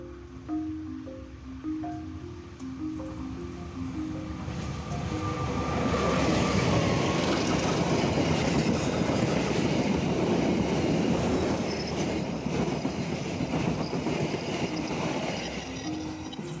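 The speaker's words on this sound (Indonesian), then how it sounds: "Nah guys, keretanya udah lewat ya guys." A train runs along rail tracks through rice fields, opening with a repeated two-tone horn or signal before a loud, rumbling wash of wheels and carriages builds, holds steady and fades slightly.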